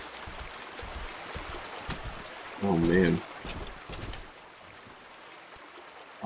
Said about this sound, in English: Lots of water spilling in all over the place.